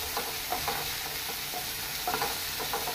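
Chopped onion and tomato frying in a pan for restaurant-style matar paneer, a steady low sizzle with a few soft stirring scrapes, no talking.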